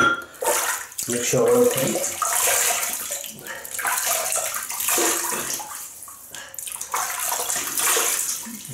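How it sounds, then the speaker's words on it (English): Water splashes and runs as a face is rinsed at a basin before a wet shave, a close, uneven sloshing with a few brief pauses, while someone speaks over part of it. "I just rinse the face"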